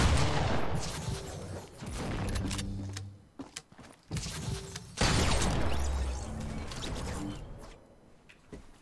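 Rapid bursts of gunfire in a shooter video game, including a Deagle, crack out in dense volleys with brief pauses, loud and close throughout.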